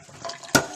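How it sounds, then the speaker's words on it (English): Cooked ramen noodles and their water pour into a strainer in a kitchen sink, a short splashing gush that rises sharply near the end after quieter background noise. "We're going to drain our noodles. In a strainer."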